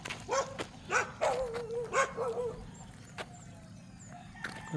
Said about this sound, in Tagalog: Tapos meron pang mga aso.